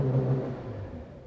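A 2017-2018 Subaru Impreza with a horizontally opposed engine revs in park, a short low rumbling burst that swells at first and settles back, heard up close with no talking.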